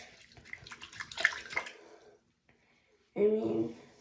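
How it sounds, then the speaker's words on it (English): Hot water poured into a homemade slime mixture, a close, splashing pour with bathtub-like filling texture, first broken and irregular, then a pause of near silence, then a louder steady burst at the end. "add some more hot water because that was a little bit too much"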